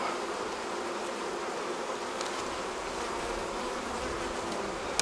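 Dense, steady buzzing of many honeybees inside a hive fills the space continuously, close and fairly loud with no voices.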